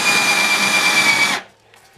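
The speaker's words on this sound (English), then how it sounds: "drill this down enough for this coin to fit flush in there" A power drill with a Forstner bit bores into a wooden board, a loud steady whirring grind lasting over a second, then cutting off abruptly into near silence.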